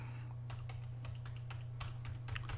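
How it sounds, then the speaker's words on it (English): Fingers typing a word on a computer keyboard, a quick irregular run of light clicks heard close against a constant low electrical hum. "So I'm going to type in"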